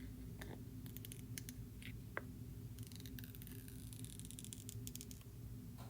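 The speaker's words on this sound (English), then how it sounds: "So now we're going to take the plastic wrap off." Plastic wrap is peeled off a new iPhone 13 mini with faint crinkles and a few sharp crackles over a steady low hum, close and quiet.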